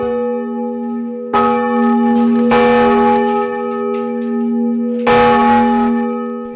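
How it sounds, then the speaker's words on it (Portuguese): Large cathedral bells in Blumenau, Brazil, ring out loudly with strong, sustained tones, several fresh strikes layering over the lingering hum of earlier ones. "chegou a hora dos sinos mostrarem a sua força"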